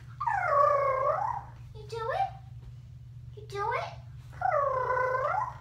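A small teething puppy makes drawn-out whining, whimpering vocal sounds in a few bursts, close and fairly loud, with a low steady hum underneath and a child's brief speech.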